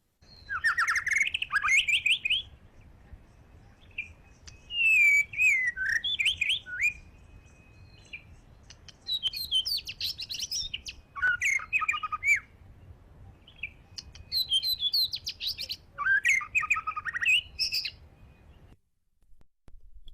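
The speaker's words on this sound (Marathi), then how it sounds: "सॉंग किंवा गाणे हे रचनेत थोडे क्लिष्ट, विविध सुरावटींचे आणि सुरपट्ट्यात असते." Songbirds sing in clear bursts of varied, complex warbling phrases separated by short pauses, close and fairly loud over a quiet background, with no voices.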